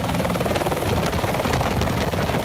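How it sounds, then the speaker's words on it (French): A helicopter taking off on a sightseeing flight, its rotor thumping loud and steady in close, continuous chopping without a break. "Et eux, ils partent en hélico comme ça."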